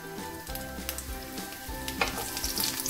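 Onion and garlic sizzle in oil in a pot, a steady close frying crackle with small stir noises and no talking.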